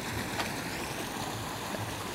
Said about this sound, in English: The gust of water coming in from the ocean.